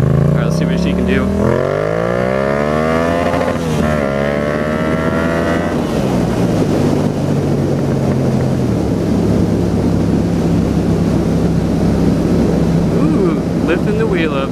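Yamaha FZ-07 motorcycle fitted with a Power Commander and Yoshimura exhaust, ridden hard: the engine revs climb through several gears in rising sweeps, then settle into a loud steady drone under heavy wind rush, recorded on board.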